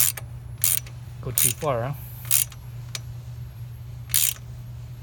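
A wrench gives a few sharp metallic ratchet clicks at close range while tightening a bolt on an Akrapovic exhaust being fitted to a Honda CB300R motorcycle, over a low steady hum. Someone speaks briefly between the clicks.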